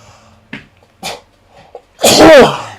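A single loud, close sneeze bursts out near the end after a few soft breaths and small sounds in a quiet room.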